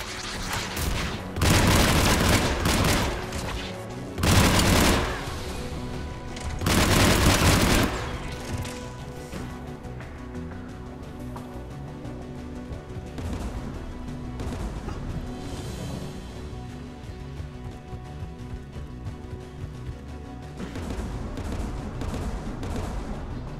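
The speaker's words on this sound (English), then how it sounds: "AA guns ahead of us" Anti-aircraft guns firing in the video game Mass Effect 3, three heavy bursts of booming fire early on, then a lower rumbling battle din continuing alone.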